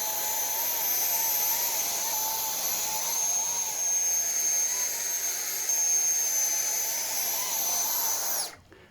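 A 3D-printed RC model Harrier VTOL jet lifting off: a loud, steady high-pitched jet turbine whine holds throughout, with a slight wavering pitch, then cuts off abruptly at the end.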